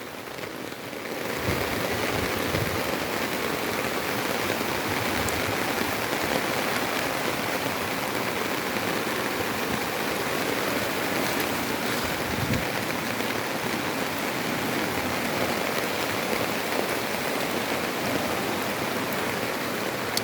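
Heavy rain pours steadily onto floodwater in Narathiwat, a dense, continuous hiss that starts after a brief quieter moment and stays loud and even throughout, with no voices.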